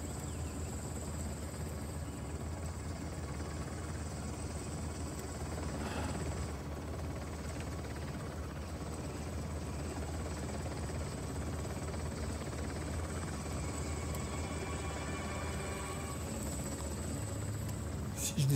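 Helicopter in the video game Uncharted: The Lost Legacy, a steady continuous rotor drone and engine rumble holding at an even level throughout, with a brief swell around the middle and no voices.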